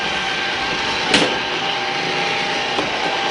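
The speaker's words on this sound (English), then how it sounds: "this is the Milagrow vacuum cleaner, which I'm testing right now." A Milagrow robotic vacuum cleaner runs with a steady close whirring hum and a faint high whine, broken by a brief knock or bump partway through.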